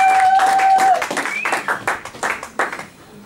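A church congregation claps and applauds in a quick, ragged rhythm under sustained organ or keyboard tones, the clapping fading toward the end.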